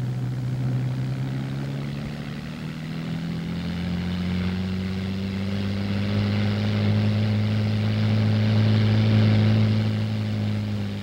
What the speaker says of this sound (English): The main propeller is driven by a 55-horsepower engine, which produces a lift of approximately 6 inches.